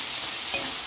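Betho shaak greens frying in a pan with salt and turmeric give a steady, close hiss of sizzling oil with one brief scrape near the middle, and no voices.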